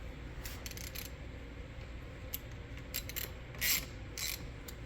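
A sonar mount base is tightened down on a boat, giving quiet intermittent ratcheting clicks in short bursts against a low, steady background hum.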